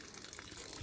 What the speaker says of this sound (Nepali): कस्तो खालको धारा हो यार यो यार।